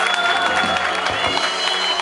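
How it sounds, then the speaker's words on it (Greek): Audience clapping at a live Greek music performance in Glinos, Trikala, a dense steady patter of many hands with light crowd noise, fairly close and continuous throughout. "Ο καλλιτέχνης θέλει παλαμάκια."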